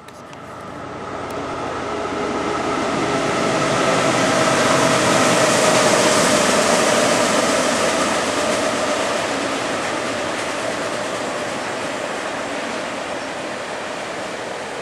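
A train rolls across a trestle near Silver Creek on Lake Erie, a broad steady rumble that swells toward the middle and eases slowly over about fifteen seconds, with no voices.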